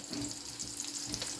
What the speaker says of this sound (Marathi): आपल्याला जिरी टाकून पटकन फोडणी मारून घ्यायची आहे